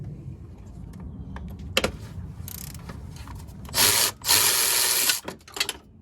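Wrench work on the alternator of a Honda Pilot, loosening 10mm nuts: scattered close metallic clicks and scrapes, then a couple of louder bursts of ratcheting or rubbing toward the end, with no talk.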